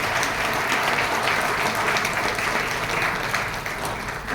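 An audience at a legal seminar for advocates claps continuously, a dense, even wash of applause that holds steady throughout without voices rising above it.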